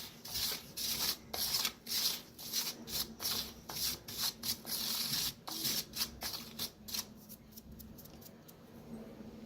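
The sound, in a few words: mixing semolina and rice flour by hand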